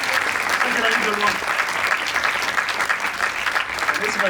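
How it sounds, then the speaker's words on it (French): A festival crowd applauds continuously as a performer walks to the stage, with loud, sustained clapping and voices mixed in. "Les applaudissements doivent durer jusqu'à ce qu'elle arrive sur la scène."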